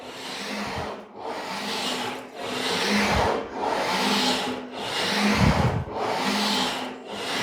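Sheet metal panel for a custom truck box rolled back and forth on an English wheel, giving a rhythmic series of close, rasping metallic sweeps, each about a second long, with short pauses between passes.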